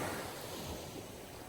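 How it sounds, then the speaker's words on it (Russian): Sea surf washing continuously, a broad, even roar of waves with gentle swells and no distinct breaks, steady and fairly close. "Ты слышишь лишь шум моря."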